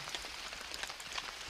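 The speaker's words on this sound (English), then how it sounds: "A few annoying drips." Faint water drips land in quick, irregular taps against a steady soft hiss, scattered and fairly distant, with no voices.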